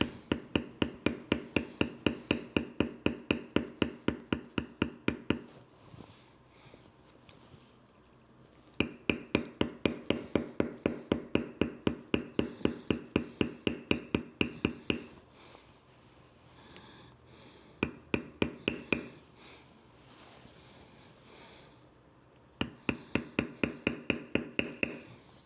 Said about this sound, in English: use a small beveler here and bevel those down